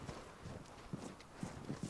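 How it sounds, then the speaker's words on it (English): Footsteps sound in the online shooter game Vigor. Several soft thuds fall in an uneven walking rhythm, faint and muffled, from someone moving nearby. "And I hear footsteps."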